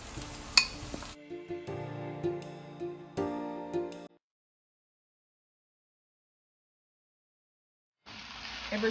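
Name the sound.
saltfish added to frying vegetables in a pot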